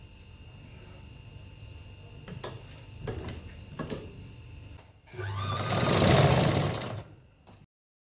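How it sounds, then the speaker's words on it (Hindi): A sewing machine stitches a half-inch seam on a blouse: a few short mechanical bursts and clicks, then a loud continuous run of rapid stitching for about two seconds that slows and stops, with no talking. "अब यहाँ पे हम हाफ हाफ इंच की सिलाई लगाएंगे"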